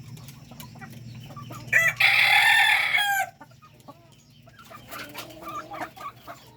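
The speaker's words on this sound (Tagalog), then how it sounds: "bago pa lang itong mga hen natin na to" Hens on a farm cluck in short, scattered notes, and a rooster gives one loud, close crow partway through before the soft clucking resumes. No one speaks.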